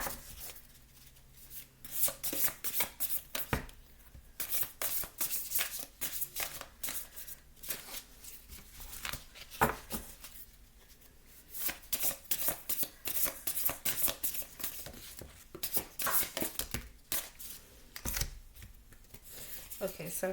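Tarot cards being shuffled by hand for a reading, a steady run of crisp riffling and slapping bursts in repeated rounds, close and fairly loud, with brief pauses between shuffles and no talk over it.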